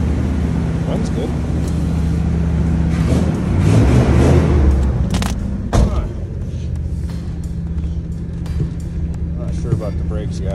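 A 1955 Cadillac Series 60 Fleetwood V8 idles steadily with a low, continuous rumble, a few thumps and clunks over it, and people talk nearby throughout.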